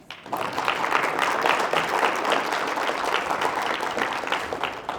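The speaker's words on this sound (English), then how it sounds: "Give a round of applause for Mayor Gentling." A crowd at a State of the City address applauds a mayor steadily for several seconds, a dense wash of many hands clapping with no talking over it.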